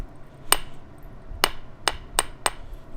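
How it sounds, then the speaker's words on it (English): Light percussion trimming along the edges of a banded obsidian Scottsbluff point: five sharp, clicking knaps, close and isolated, spaced unevenly over a quiet background. "I'm going to try to do some light percussion trimming"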